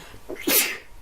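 One short, sharp sneeze, close and fairly loud, with a quick intake of breath just before it.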